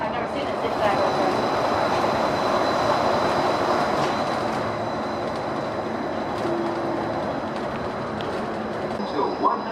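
A Disneyland monorail runs along its rail with a steady, loud rumble and rush of motion noise filling the cabin, while passengers talk over it.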